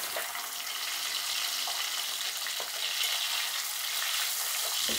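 Chicken pieces frying with browned onions in a pan, a steady loud sizzle with occasional stirring scrapes, no voices.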